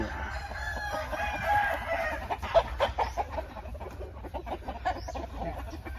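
Several chickens cluck busily nearby while a rooster crows, the calls overlapping in an uneven, lively farmyard chorus.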